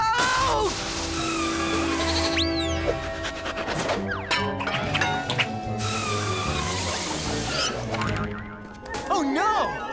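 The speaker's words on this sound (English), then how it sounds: "A baby mountain goat is stuck on the snowy mountains." A cartoon baby mountain goat stuck on snowy mountains bleats amid comic boings, crashes and swooping sound effects, with characters speaking over the lively scene.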